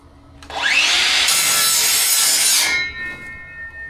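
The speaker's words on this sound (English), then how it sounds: "We're going to try the circular saw. See if the teeth are too big. Let's do a little test run up here" A circular saw makes a test cut through wood: a loud motor whine spins up, then a harsh, steady cutting roar lasts about two seconds before winding down. No one speaks.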